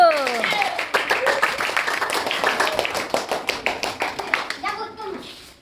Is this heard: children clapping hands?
yes